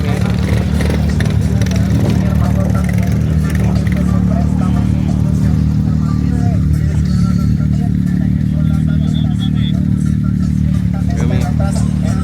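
An ATV engine rumbles steadily and loudly while riding back down from a cloud-covered mountaintop in Ensenada, with wind buffeting and clattering over the motor and voices talking over it.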